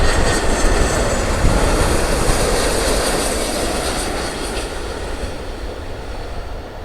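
Hawaiian Airlines jet airliner at LAX airport, a loud, steady, broadband engine roar that fades slightly as it carries on, near and continuous, with no talk.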